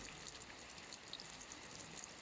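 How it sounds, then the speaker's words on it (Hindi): Steady soft patter of rain falling on a surface, an even wash of drops heard alone at moderate level, used as a calming meditation backdrop. "आप महसूस कीजिए कि आपके ऊपर बारिश की बूंदें गिर रही हैं।"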